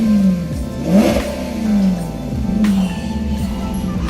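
A Maserati GT MC engine revs repeatedly, close and loud, its pitch climbing and falling in several throttle blips over a steady idle.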